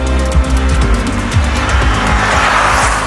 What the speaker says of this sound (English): I'm really taking to the 3-liter V6 petrol engine's genteel nature